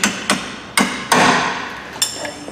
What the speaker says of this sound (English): Tap the bolt through just gently.